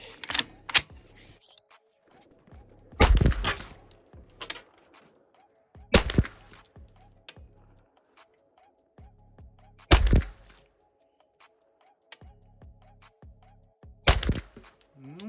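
About five loud, close 9x21 pistol-calibre shots from an AKDAS SA-9 with AFTactic muzzle devices ring out one at a time, several seconds apart, with quiet pauses and faint background noise between them.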